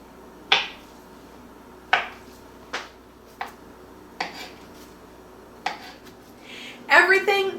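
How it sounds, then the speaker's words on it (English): A knife cuts tofu into cubes on a cutting board for red cooked tofu: about seven sharp, separate chops at uneven intervals, close and clear, ending in a quick cluster of cuts. "All that's left is to cube this tofu."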